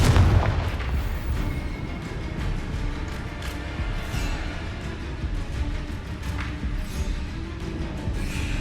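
Confringo spell blasts in a video game, a continuous, heavy rumble of booming impacts, strongest at the start and then holding as a dense, loud roar without clear gaps.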